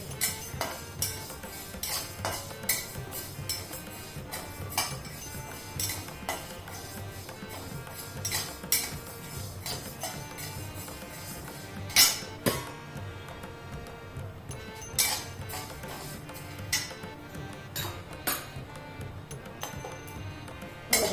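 Whole cloves, green cardamom, cinnamon and black pepper dry-roast in a pan on a home stove, with a spatula clinking and scraping against the metal in sharp, scattered strikes over a quiet background.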